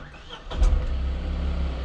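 A Tata Nano's small engine cranks over with a brief burst, then settles into a steady, rough low exhaust rumble, heard close and alone.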